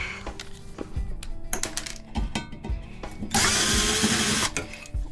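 A power drill backs screws out of a microwave casing while scrapping it for its copper transformers, with short bursts of drilling broken by clattering handling noise and a longer, steadier run near the end.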